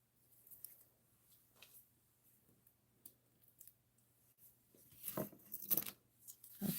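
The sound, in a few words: peeling paper backings off stickers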